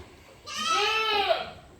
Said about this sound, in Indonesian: ini kambing yang melahirkan tadi lagi dinonton oleh Mas Alamsa.